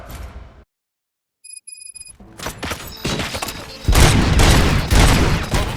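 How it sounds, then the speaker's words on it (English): Gunfire in the video game RoboCop: Rogue City, with loud bursts of rapid shots building after a brief silence and a short electronic beeping tone, dense and near. "Gunshots? What's going on?"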